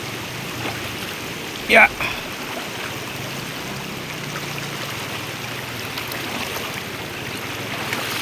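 River water flows steadily in a continuous wash, with a brief short word spoken midway over the running water.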